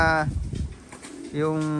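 Racing pigeons coo in the loft, two close, clear throaty coos separated by a brief pause, with someone talking faintly in between.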